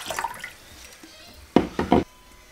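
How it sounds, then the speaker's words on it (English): Water being added to a pot holding milk for pasteurizing, with a few close, sloshing pours and splashes in quick succession after a stretch of soft handling noise. "I'm going to add a little more water."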